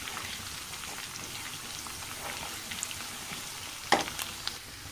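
Amaranth, fenugreek and coriander greens fry in a pan with a steady, soft sizzle throughout, a brief louder crackle near the end.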